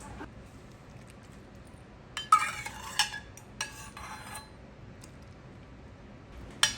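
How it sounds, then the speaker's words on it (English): A spoon clinks and scrapes against a bowl while stirring powdered gelatin into boiling water, in a few short bursts with quiet pauses between them; no talking. "we're gonna mix that gelatin, the powdered gelatin in with that boiling hot water"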